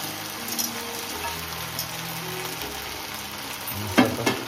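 Fried fish pieces are stirred into a sizzling pan, giving a steady close frying hiss and a sharper clatter of the spoon near the end, with no voices.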